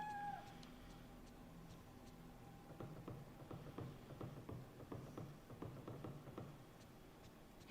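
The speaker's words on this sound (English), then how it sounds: "Your cat wants into your room." In the video game Fatal Frame III, a cat gives a short, drawn-out meow at the start. Soft, irregular ticking and tapping follow in a quiet room, and no one speaks.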